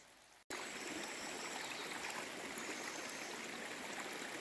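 Spring water flows steadily at a forest spring near Synjak in Zakarpattia, Ukraine, a soft continuous babbling stream that starts abruptly after a brief near-silent moment and then runs evenly, close and fairly quiet.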